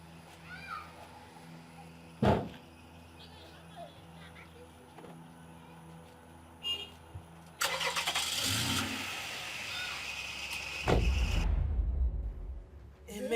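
A car engine cranks and starts with a loud rising whir, then settles into a low rumbling idle that continues near the end. Quieter movement and door sounds come before it.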